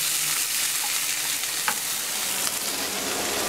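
Liver frying in a pan, giving a steady, loud, close sizzle that hisses without a break throughout, with a couple of faint clinks on top.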